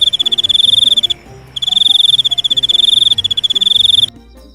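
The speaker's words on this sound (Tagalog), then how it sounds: "gamitin ang kanyang huni upang ipatawag ang iba pang kuliglig mula sa kalapit na bahagi ng kagubatan" Forest crickets chirp in fast, steady pulsing trills, two long bursts separated by a brief pause, loud and close over a faint low background.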